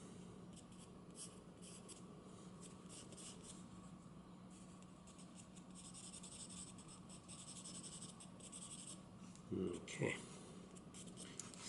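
A pencil makes soft scratchy strokes on paper while sketching a sandhill crane, quiet rhythmic rubbing heard up close throughout, and a person speaks briefly near the end.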